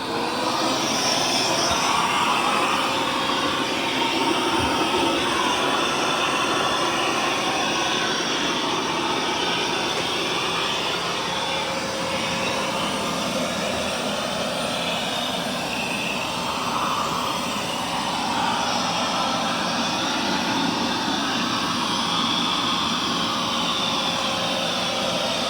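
A Narwal Flow robot vacuum cleaner runs in vacuum-only mode, giving a steady, continuous whirring hum with a broad airy hiss and slight shifts in pitch as it moves across the floor.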